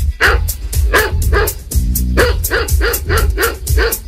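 A dog barks repeatedly in an energetic, steady series of loud, close barks, with a short pause in the middle, after a competition.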